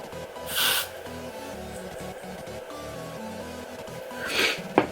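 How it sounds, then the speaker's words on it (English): Two hissing bursts of hairspray from an aerosol can, one short early and a longer one near the end, over a low background hum. "I'm just gonna spray that there."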